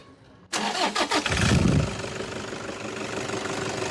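A Toyota Fortuner TRD SUV engine cranks briefly with a few sharp turnover bursts, then catches on a single start and settles into a steady, close idle hum.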